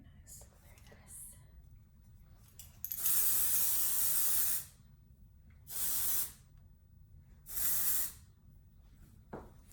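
Dry shampoo sprayed from an aerosol can onto hair: three close, hissing bursts, one long and two shorter, with quiet murmuring voices in the background between them.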